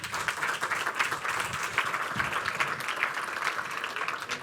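Warm audience applause at an entrepreneurship awards ceremony in Porto, brisk rippling claps from a crowd holding steady throughout, with faint voices in the background.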